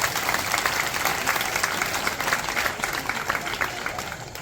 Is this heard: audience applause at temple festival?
yes